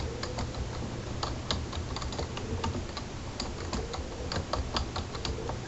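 Rapid, light clicking of a computer keyboard as a password is typed, a steady close patter of individual keystrokes with no talking.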